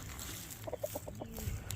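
A hen clucking in a farmyard, a short series of close, soft clucks over quiet background noise.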